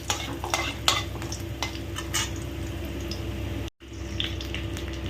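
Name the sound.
crushed garlic tempered in hot oil, sizzling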